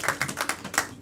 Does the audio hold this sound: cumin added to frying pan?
no